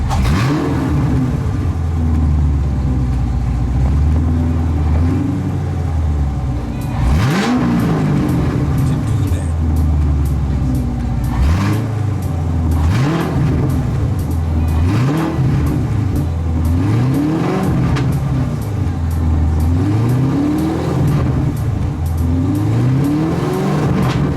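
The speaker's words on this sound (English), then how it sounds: "Let's give it a couple revs." A Chevrolet C7 Corvette Stingray engine idles low, then revs up sharply several times in a row, each rise falling back, loud and close with a steady rumble throughout.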